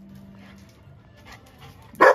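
A dog gives a single sharp bark at the end of a quiet outdoor stretch on a farm with goats nearby, loud and close after faint background noise.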